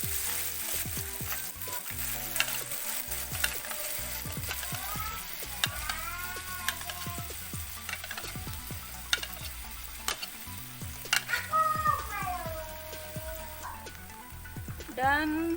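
Sliced kaffir lime leaves frying in hot cooking oil for spicy meatballs, a loud, steady sizzle with scraping stirs, plus other faint background sounds.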